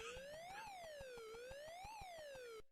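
Wailing siren sound effect from Pac-Man on Atari home computers, a synthetic tone sweeping up and down in a steady cycle of about 1.3 seconds, over a faint regular ticking pulse, then cutting off abruptly.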